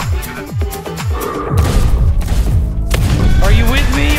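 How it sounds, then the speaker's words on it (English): Booming ship cannon shots in Sea of Thieves thud in rapid succession, loud and close, mixed with shouting voices and chaotic game sound effects. "Fire off the left side, all four cannons off the left side."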